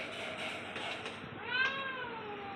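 A cat meows several times up close, a drawn-out plaintive call followed by a rising, higher-pitched meow, with faint room noise behind and no speech.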